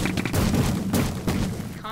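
An ion cannon fires in a Minecraft Grand Theft Auto mod game, a rapid series of booming blasts in quick succession, fairly loud and close.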